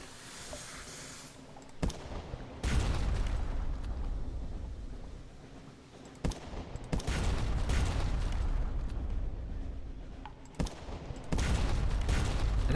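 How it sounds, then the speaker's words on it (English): Heavy main cannon shots in the Sunless Sea game, several booming blasts spaced a few seconds apart, each a sharp crack followed by a rumbling low roar over a constant engine hum. "Now that it's in range of our main cannon."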